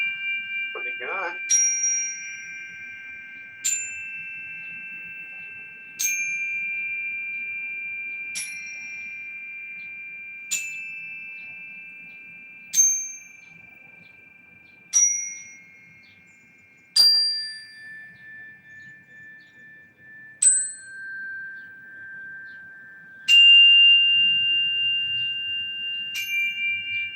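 Zen bells ring in a slow series of about a dozen bright metallic strikes, each chiming out and decaying before the next, with changing pitches and a faint hum underneath.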